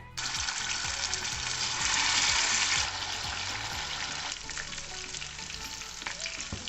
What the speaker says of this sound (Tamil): இப்போ இந்த சிக்கனை வந்து ஹாஃபாக ஃப்ரை பண்ணி எடுக்க போகிறாங்க. அதுக்கு ஒரு பேனில் ஆயில் ஊற்றி கொஞ்சம் ஹீட் பண்ணி வச்சுருக்கேன்